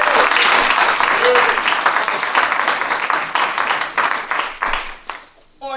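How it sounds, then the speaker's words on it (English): Warm audience applause for a young trumpeter at a jazz tribute concert, loud and dense at first, then thinning into scattered claps and fading near the end. "Please, a wonderful, wonderful round of applause,"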